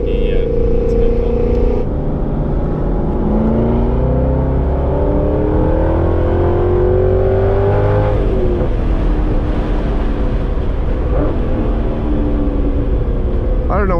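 C6 Corvette Z06 on a race track, its engine climbing and falling through rising revs and downshifts with rev-matching blips, loud and continuous inside the cabin while people talk over it.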